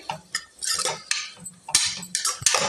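A spoon stirs potato and cauliflower in a cooking pot for vegetable biryani, producing close, irregular scraping and clinking strokes over a few seconds with no voices.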